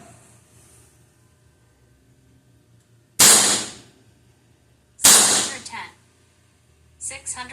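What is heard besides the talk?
Evanix Viper-X .25 caliber air pistol shots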